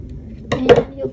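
Scissors snip through yarn at the end of a crocheted strawberry cake roll piece: two quick, close metallic cuts, about a fifth of a second apart, over a quiet room background.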